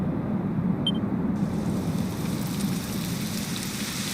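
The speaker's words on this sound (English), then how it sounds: "It would have to go and start raining, wouldn't it?" Steady rain falls in the role-playing game Dragon Quest XI on the way to a summit, a dense, even hiss with a low rumble beneath it and a brief high tone near the start, with no voices.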